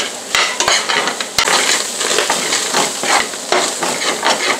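Onions sautéing with meat in a frying pan, loud close sizzling under busy stirring, with repeated sharp spoon scrapes and clacks against the pan.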